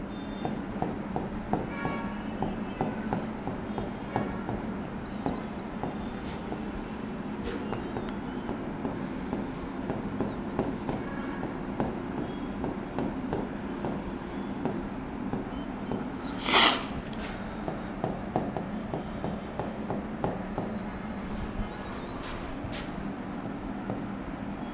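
A black marker writes on a board in a classroom, giving repeated short squeaky strokes in bursts over a low room hum, with one sharper scrape partway through.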